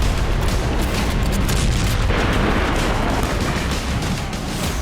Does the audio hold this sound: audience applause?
no